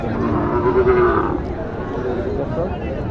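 A cow gives a long low moo near the start, over a busy background of chatter and general livestock noise at a cattle market in Naogaon.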